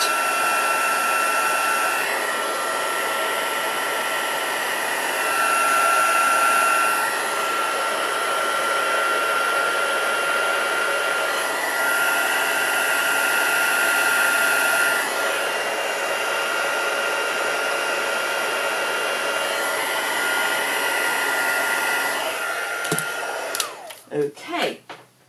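A heat tool blasting hot air over embossing powder on a craft piece, a loud, close, steady whirring blow that runs unbroken for most of the span before cutting off with a few clicks and clatters at the end.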